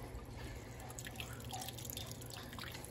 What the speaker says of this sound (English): So you can see all this water that I'm squeezing out there.